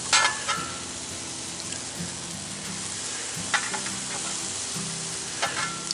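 Food, including sausage, sizzling and frying steadily on a cast iron griddle, a close, continuous crackling hiss with a few louder spatters and scraping sounds from stirring or turning.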